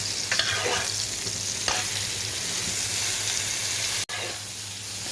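Mixed vegetables fry and are stirred in a pan, a loud, steady sizzle with occasional scraping clicks from the utensil and a sudden brief break near the end, close and with no talking.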